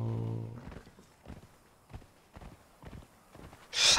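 Horse hooves clip-clop at a steady walking pace in the video game Conan Exiles, with an even rhythm of moderate, close steps. A brief burst of other sound cuts in at the end.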